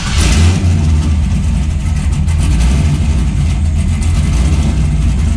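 A Chevrolet Camaro project car's engine runs loud and steady nearby, a deep rumbling idle with slight revving throughout, no voices over it.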